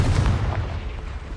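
A fire-blast spell explodes in the Hogwarts Legacy video game: a single loud, deep boom with a rumbling low-end burst that stays heavy for just over a second.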